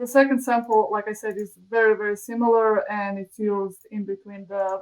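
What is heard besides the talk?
No everyday noises stand out.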